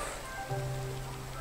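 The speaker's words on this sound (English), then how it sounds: "Oh, it's raining." Rain pattering steadily in Minecraft, the video game, a soft even hiss of drops on surfaces with a faint tonal hum underneath, no voices.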